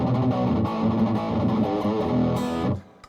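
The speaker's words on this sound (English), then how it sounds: "This is a Boss Turbo distortion." An electric guitar runs through a Boss Turbo Distortion pedal, a loud, saturated chord sustaining for nearly three seconds before cutting off abruptly into quiet.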